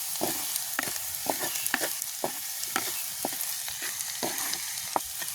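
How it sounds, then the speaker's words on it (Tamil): Potatoes and green onion fry with salt over a village cooking fire, a soft continuous sizzle broken by regular clicking stirs or scrapes of a utensil against the pan, moderately close and fairly quiet. "நாங்கள் உருளைக்கிழங்கு பச்சை வெங்காயம் எல்லாத்தையும் உப்பு சேர்த்து பொரித்து"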